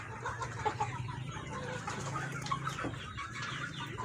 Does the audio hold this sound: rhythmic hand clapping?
no